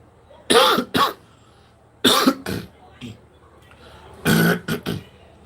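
A man coughs in three separate bursts, each a pair or cluster of harsh, close coughs spaced a couple of seconds apart, with faint throat sounds between.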